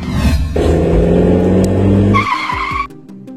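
A car brakes hard with a loud, sustained tire skid lasting about two seconds, the engine rumbling underneath, ending abruptly; close and prominent with no talk.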